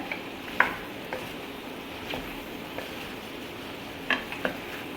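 Pumpkin pieces stirred in a pan over a medium gas flame, with a soft low sizzle underneath and a few light scrapes and clinks of a utensil against the pan, spaced irregularly.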